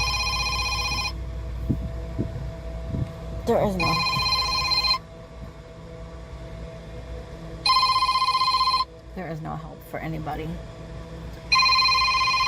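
A phone rings with an incoming call in repeated electronic bursts, each a few seconds long, separated by gaps, with a person talking between and over the rings close by.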